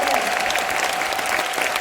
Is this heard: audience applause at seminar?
yes